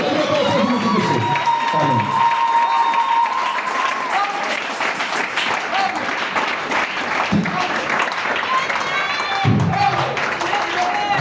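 A church congregation cheering and applauding loudly and continuously, a dense wash of clapping with shouts and voices mixed through it.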